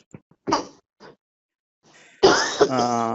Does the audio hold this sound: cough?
yes